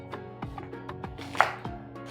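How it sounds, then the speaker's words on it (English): A knife chops callaloo stems on a cutting board for soup, several quick, close chopping strikes in an uneven rhythm, one sharper and louder than the rest. "So you're just gonna chop these stems."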